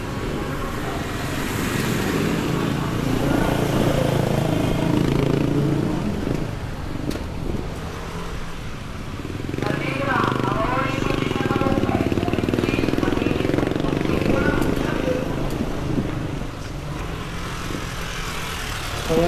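Motorcycles and other street traffic rumble past near Baclaran Station early in the morning, a steady loud engine wash that swells and fades as vehicles go by, with no talk over it.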